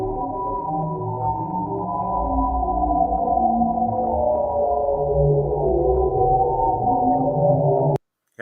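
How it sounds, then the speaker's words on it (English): A space recording of stars: a steady, droning hum with shifting low tones and a faint warbling texture, continuous and eerie, cutting off abruptly near the end. "This is the sound of stars."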